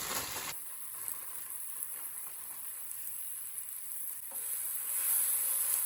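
Potatoes and gelincik greens cook in a pot, making a steady, close sizzle with faint stirring scrapes. The hiss swells louder toward the end, and no one speaks.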